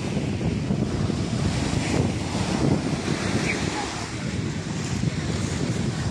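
Strong, fresh wind by the sea in Antalya, a continuous roaring rush buffeting the microphone with surf beneath it, loud and unbroken from start to finish.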